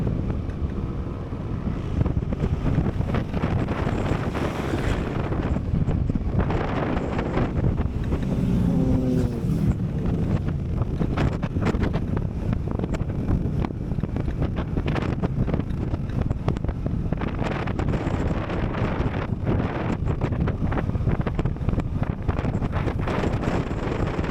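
Steady motorcycle engine drone while riding on the Transcentral Highway in Cebu, loud and continuous, with heavy wind buffeting the microphone throughout.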